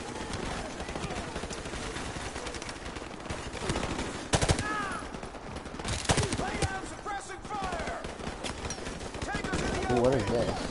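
Gunfire rattles through the Call of Duty Modern Warfare Remastered campaign in near-constant bursts of automatic fire and louder single cracks, with game voices and a player talking over the shooting.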